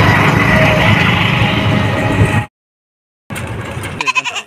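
Goats at a busy livestock market make a loud, continuous din of bleating and crowd noise up close, which cuts out briefly and then resumes with more sharp, wavering bleats.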